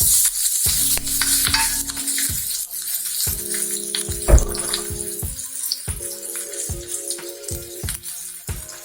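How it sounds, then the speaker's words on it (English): Ginger and curry leaves go into hot oil for sabudana khichdi and sizzle in the pan. Crackling bursts sound close by, interrupted by stirring strokes and short tonal clinks of utensils, with no talk. "Now the ginger. Now the curry leaves."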